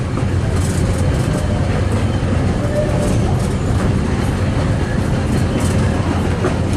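The Disneyland Railroad train rolls along its track, a steady loud rumble with faint rhythmic clatter from the wheels, close and continuous, with no talking over it.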